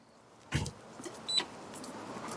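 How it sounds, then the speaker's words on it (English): A sharp click is followed by a short electronic beep from an ALLIKE SN-1000 solar generator power station starting up, then a quieter second beep, over a faint steady background hum. "let's turn on the power station. There's your beeping."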